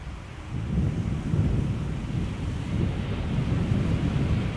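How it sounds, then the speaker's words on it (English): Steady southeasterly wind buffeting an outdoor microphone at Amsterdam Schiphol Airport, a continuous low rumbling roar with gusty swells and no voices. "wind blowing from the southeast. Has picked up a little bit"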